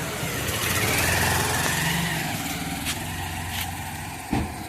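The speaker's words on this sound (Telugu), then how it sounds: "బైక్ వస్తుందిరా." A motorbike approaching outdoors during summer games among friends, a steady mid-range engine drone that holds fairly loud throughout, with a couple of brief sharp knocks near the end.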